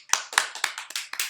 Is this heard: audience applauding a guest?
yes